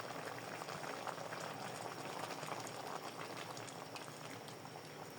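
A squash stew simmers after coconut milk is added, giving a dense, steady bubbling and sizzling that stays quiet and continuous, with no talking.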